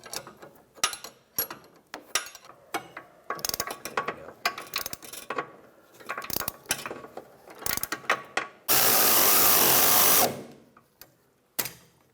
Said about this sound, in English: we'll use a 22mm wrench on the nut, and tighten this down.